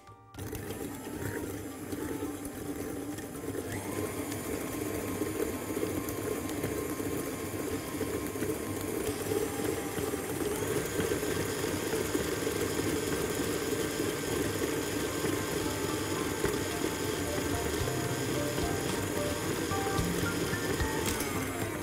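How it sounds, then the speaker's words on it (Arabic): An electric mixer whirs steadily while it beats eggs with sugar and vanilla into cake batter for a cinnamon walnut cake, a continuous close motor drone that holds without pause and shifts slightly in pitch. "هناخد البيض اللي عندنا ونحطه هنا مع السكر والفانيلا. ونخلطهم مع بعض شوية"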